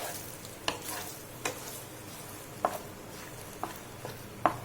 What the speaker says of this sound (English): We'll mix it well.